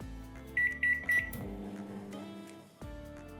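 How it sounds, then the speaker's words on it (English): A microwave oven melting chocolate ganache hums steadily, with three short electronic beeps near the start, then a brief pause and the hum resuming. "I'm going to place it in the microwave till it's nice and melted"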